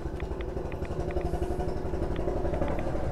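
Old tractor engine in Fallout 4, a steady rattling putter with rhythmic clattering knocks, close and continuous, with no voices.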